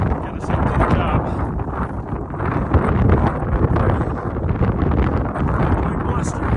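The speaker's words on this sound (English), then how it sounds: "Quite blustery." Strong, gusty wind buffets the microphone on an exposed rocky alpine stretch of a mountain hike with stone cairns, a loud continuous roar that swells and eases without letting up.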